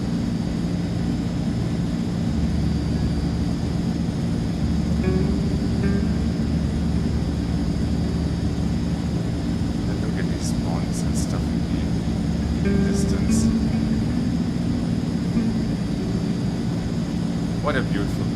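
Aircraft engine running steadily on a runway in Microsoft Flight Simulator 2020, a continuous loud drone with a low propeller hum filling the whole stretch, with faint talk over it at times.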